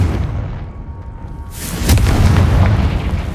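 A Confringo fire spell bursts in Hogwarts Legacy, a loud booming blast erupting around the midpoint and rolling on with a heavy, sustained rumble over a low ambient bed.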